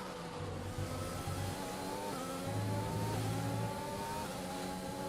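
Formula 1 car engine in the F1 2020 racing game, revving high and steady with gear shifts audible as stepped pitch changes, loud and continuous without commentary over it.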